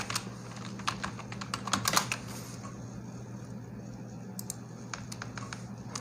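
Close computer keyboard typing, a dense burst of clicking keystrokes early on followed by sparser scattered taps over a faint steady hum.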